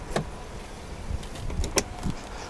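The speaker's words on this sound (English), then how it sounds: "Automatic windows." Electric power windows on a 2017 GMC Sierra All Terrain pickup whir in a few short bursts with light clunks, close and fairly quiet in the cab.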